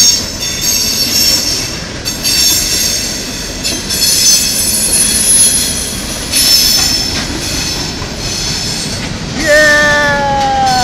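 A Norfolk Southern freight train rolls past close by, loud and continuous with rumbling cars and wheel squeal rising near the end, while a voice calls out faintly over it.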